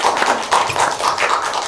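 An audience in a film festival screening hall welcomes the film's director with loud, close applause, dense overlapping claps rising and falling without any voices.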